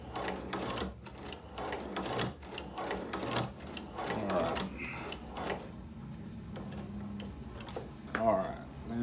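A Chinese leather stitching machine, threaded with thick thread for leather sheath work, sews its first stitches in a steady run of close mechanical ticks and clacks that pause briefly midway, with faint voice sounds in the background.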